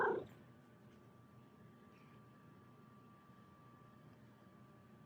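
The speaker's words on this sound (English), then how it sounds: "I don't know if you can hear him meowing in the background." Marcus the cat gives a single short meow right at the start, then a quiet indoor room hum continues with nothing else.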